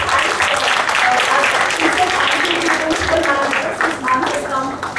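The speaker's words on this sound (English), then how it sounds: "big round of applause for creating this process" School assembly audience on Earth Day claps together, a loud, dense round of applause filling the room with scattered voices mixed in.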